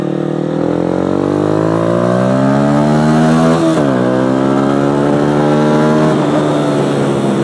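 A Yamaha YZF 125 four-stroke motorcycle engine revving loud and close, pitch climbing in long sweeps, dropping sharply near the middle, then rising again with another brief dip.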